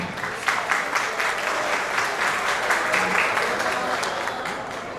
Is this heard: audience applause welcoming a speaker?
yes